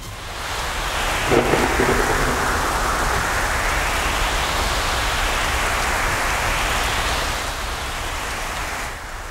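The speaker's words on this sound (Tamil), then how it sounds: "ECR இடைக்கொள்ளிநாடு பகுதியில் சுழன்றடித்த சூறை காற்று." Heavy, steady roar of rain and gusting storm wind on the East Coast Road near Chennai, India, loud and continuous throughout with no voices.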